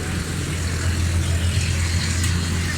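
A Suzuki Cultus three-cylinder car engine running smoothly without misfire after ignition rotor, distributor cap and plug wiring repairs, a loud steady idle rumble heard up close and continuous throughout.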